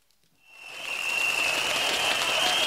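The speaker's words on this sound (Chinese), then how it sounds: "热烈的掌声，欢迎上席的掌声。" An audience at a Teochew opera spring gala in Tangpu village, Jieyang, breaks into applause that swells from near silence into a dense, steady wash of clapping.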